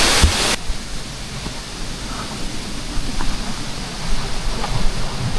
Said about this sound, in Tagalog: Ilog ng Nasugbu.